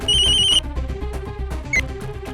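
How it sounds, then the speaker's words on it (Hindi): A telephone bell rings loudly in a short burst that cuts off, followed by busy background sounds with a brief electronic beep. "सर फिर से फोन आ रहा है।"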